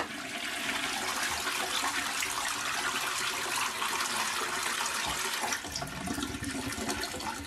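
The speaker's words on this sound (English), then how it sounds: "it is a simple case of just flushing it away" A toilet flushes loudly and close, a sustained rushing gush of water that shifts and begins to refill toward the end, with no talking.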